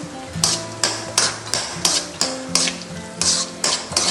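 Cashews and raisins fry in a pan for a Kerala avalose unda, with a steady sizzle broken by about a dozen sharp, evenly spaced taps of a spoon or spatula striking the pan, close and fairly loud.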